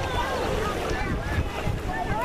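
Lake waves lapping at a beach during a church picnic, a continuous washing rush heavily mixed with wind buffeting on the microphone, close and fairly loud.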